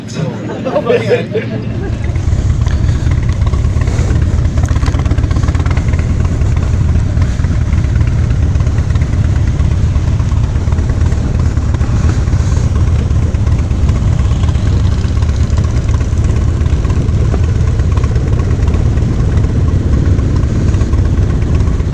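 Several classic motorcycles idle together in a steady, loud engine rumble as a group rolls out on a ride, with crowd chatter mixed underneath for about twenty seconds.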